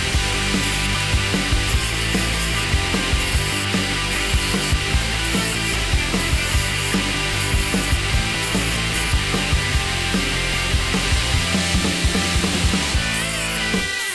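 Belt grinder fitted with a 60 grit ceramic belt grinding the bevels of a chef's knife blade, a loud, continuous, dense abrasive roar with a steady mechanical hum throughout, no voices.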